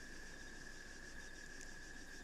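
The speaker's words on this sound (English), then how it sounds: "the sounds of, like, the bugs, the cicadas, and, you know, the rushing water of the river" Insects chirp in a continuous, even, high drone that sits faint and distant in a quiet outdoor night ambience, with no voices.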